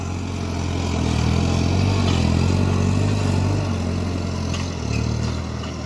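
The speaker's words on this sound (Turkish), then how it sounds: "Traktörümüz 90 beygirlik bir traktör. Arkasında da 11'li bir patlatmamız var." A 90-horsepower New Holland TD4 tractor pulling an 11-tine chisel plough drones steadily at close range with a low rumble and some rattling clatter, swelling slightly midway and dipping near the end.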